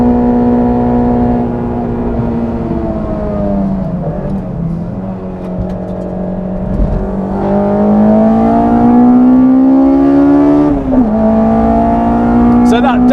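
A 262bhp Honda S2000 with individual throttle bodies revs hard on track at Snetterton, its loud, close engine note climbing and dipping steadily through the gears, with a brief lift around mid-clip.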